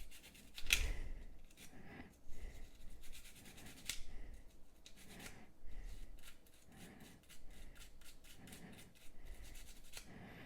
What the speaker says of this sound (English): I'm going to go ahead and scrub with the dry brush, see what comes off